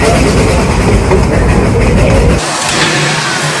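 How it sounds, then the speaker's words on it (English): The Puffing Billy heritage steam train rumbles past loudly and close, with a dense, rattling roar of wheels and carriages that cuts off abruptly to a quieter hiss and background noise. "That's actually a very iconic steam train, steam rail that we're going to experience today."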